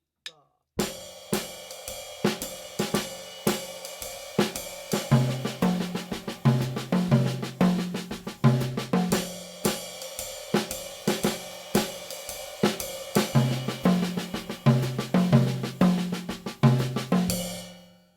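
Jazz soloing phrase played on a pitched instrument, mixing notes on and off the beat in a lively, repeating rhythm with accompanying chords, clear and continuous with no talking.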